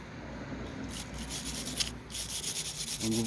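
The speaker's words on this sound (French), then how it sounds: "N'hésitez pas avec la brosse à bien frotter." A stiff brush scrubs the brake caliper supports where the pads seat, making rapid, close, rasping strokes in uneven bursts with brief pauses between them.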